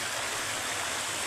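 A mountain stream rushes at its source, a loud, steady broadband roar of flowing water close by with no voices.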